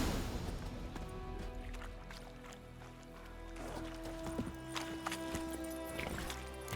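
Geralt's horse Roach from The Witcher 3 moves along with soft rhythmic hoofbeats, heard faintly amid ambient game sounds.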